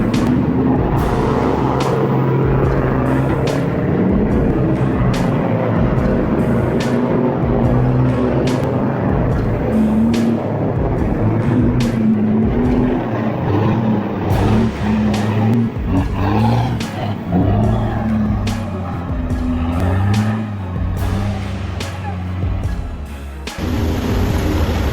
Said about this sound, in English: The engine roared like a wounded animal, but to no avail.